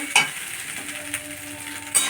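Food stirred in a wok over sizzling heat, a soft frying hiss punctuated by three short metallic scrapes or clinks of the utensil against the pan.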